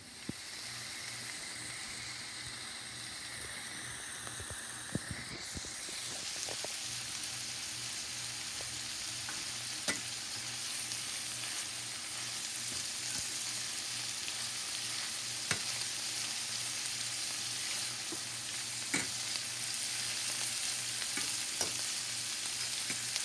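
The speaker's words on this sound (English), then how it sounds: "This is my cabbage frying" Cabbage sizzling steadily in bacon grease and butter in a hot pan, a constant crackling hiss with occasional pops and a brief scrape of stirring early on.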